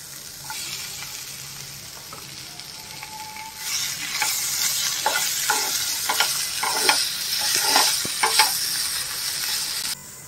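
Tomatoes added to spices frying in a pan crackle and sizzle steadily while a spoon scrapes and stirs in repeated bursts, the sizzle growing fuller partway through.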